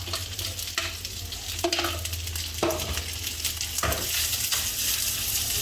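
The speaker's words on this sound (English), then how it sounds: "Fry the rice." Rice frying in a wok with shallot oil over medium heat, a constant dense sizzle with periodic scraping strokes of the spatula, close and loud with no talking.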